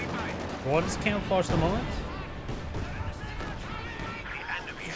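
Panzerwerfer rocket artillery barrage in the strategy game Company of Heroes 2: a series of whooshing rocket launches and scattered impacts amid gunfire, with a commentator talking over the battle.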